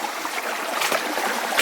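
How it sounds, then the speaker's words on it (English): Water gushing out of the flooded Thorndyke Mine portal into hard rock surroundings, a steady close rushing and trickling flow, brief and unbroken with no voices. "a nice looking portal with a lot of water coming out"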